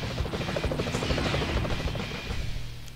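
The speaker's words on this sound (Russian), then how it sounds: "Вертолет, вертолет." Helicopter in a Spider-Man video game, a close rhythmic rotor thump with a buzzing engine drone, loud and steady, then fading slightly at the end.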